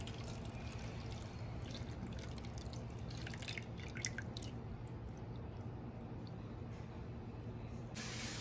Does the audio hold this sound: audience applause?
no